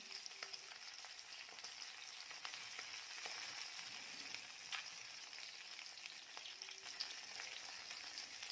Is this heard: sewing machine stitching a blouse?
no